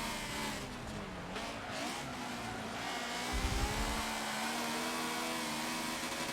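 Honda S2000 race car in Forza Motorsport 7, its engine droning steadily with shifting pitch as it runs laps, a low thump partway through, no voices over it.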